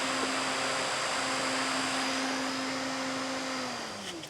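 Camper van roof vent fan runs on high, a loud steady whooshing drone with a constant tonal hum that drops in pitch and fades slightly as it winds down at the end.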